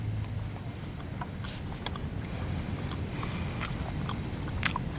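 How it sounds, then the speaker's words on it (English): Raw dandelion leaves are chewed close up, producing soft irregular crunches and wet bites over a steady low background hum, with no talking. "Just snap them off and chew on them."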